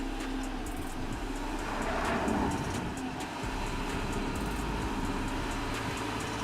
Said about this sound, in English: the automobile drives per simpler trajectory and easily copes with the first obstacle.